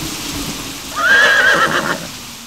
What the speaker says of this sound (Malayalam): നല്ല അനുസരണയുള്ള കുതിര